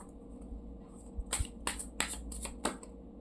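Tarot cards being shuffled at a Hindi-Urdu tarot reading, several crisp riffling bursts in a row, close and fairly quiet against a soft background hum.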